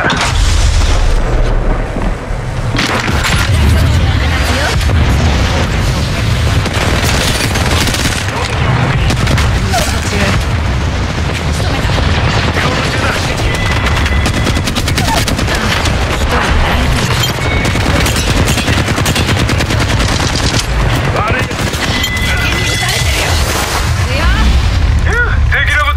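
Dense, continuous gunfire and booming explosions from an Apex Legends match fill the whole stretch, shots and blasts overlapping at close range with scarcely a pause, while a voice talks beneath the barrage.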